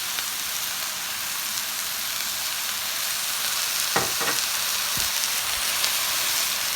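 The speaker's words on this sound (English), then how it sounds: "I'm gonna put about a tablespoon of soy sauce in here." Shrimp fried rice frying and being stirred with soy sauce, a steady broadband sizzle running throughout with a few clinks of a utensil against the pan near the end, close and continuous with no talking.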